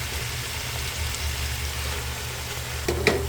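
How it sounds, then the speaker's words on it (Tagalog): Chicken, shiitake mushrooms and bok choy sauté in a pan with a steady, close sizzle, and a couple of brief clinks of stirring near the end. "O ayan guys, paggisa na natin mabuti."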